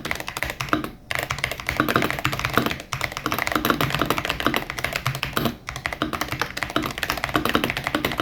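Steady rapid typing on an 8BitDo Retro 87 Mecha Break mechanical keyboard, dense clacking key presses with a couple of brief pauses, close and fairly loud.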